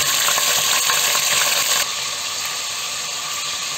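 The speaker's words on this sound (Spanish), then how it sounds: "echa un poquito de aceite y vamos a volcar toda la carne" Beef for a stew frying in a little oil in a pan, a loud, dense, steady sizzle that stays close and continuous and drops slightly in level partway through, with no talking.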